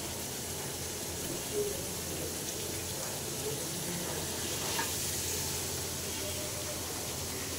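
Pangas fish head sizzles steadily in hot oil in a pan, a constant broadband hiss with faint bubbling and occasional stirring, no voices.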